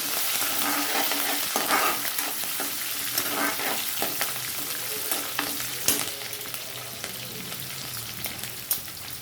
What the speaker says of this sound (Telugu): ఎండుమిర్చి ఎండుమిరపకాయలు బాగానే ఎగిపోతాయి శనగపప్పు వేగదు కనుక అందుకని ముందు శనగపప్పు వేసాను